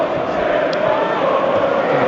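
A large football crowd murmurs at Wolverhampton Wanderers v West Ham United. It is a steady, loud, subdued hum that never rises into cheering, and a commentator's voice sits faintly over it.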